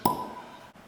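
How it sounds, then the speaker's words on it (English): A cork pops out of a wine bottle at a winery tasting, one close, crisp hollow plop with a short ringing tail that fades within a fraction of a second. "When I hear that cork pop"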